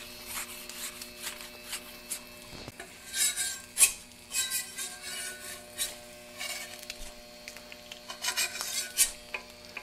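Butter sizzling on a Vevor 22-inch flat top griddle while English muffins cook for copycat Egg McMuffins: a steady soft frying hiss with scraping spatula strokes and light metallic clinks, close and fairly quiet.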